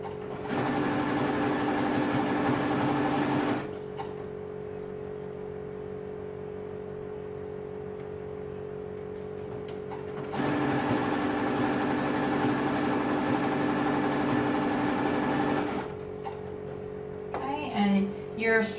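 A sewing machine runs in two long bursts stitching ribbing onto a boys' tank top neckline through three fabric layers, a steady close whirring hum with a pause between runs and faint handling noises at the end.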